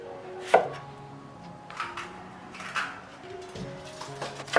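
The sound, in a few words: knife chopping pineapple into chunks and halving strawberries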